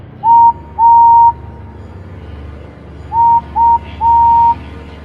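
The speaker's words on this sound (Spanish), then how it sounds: "La locomotora soltó un alegre silbido" A single high, pure whistle sounds in five short bursts, two, then three in quick succession, loud and clear over a quiet background, the kind a locomotive gives.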